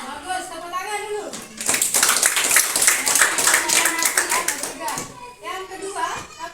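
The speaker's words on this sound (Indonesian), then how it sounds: "Bagus, tepuk tangan dulu." A classroom of students breaks into lively clapping for several seconds, a dense patter of many hands, with a teacher's and children's voices heard before and after the applause.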